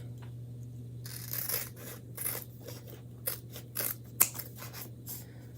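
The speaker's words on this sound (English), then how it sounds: "let's just keep trimming this apart" Scissors snip through a Chalk Couture transfer in a series of short, close, crisp cuts with light rubbing between them over a steady low hum.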